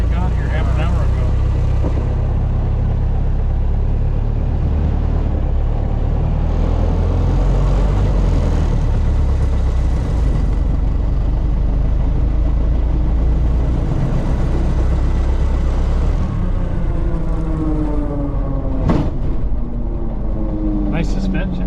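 A 1926 Ford Model T two-door sedan's engine gives a loud, rough growl throughout, deep and close, with voices talking over it and a rising whine near the end.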